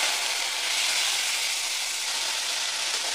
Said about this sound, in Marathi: आता आपण ही गवारी शेंग त्यात परतून घेऊया.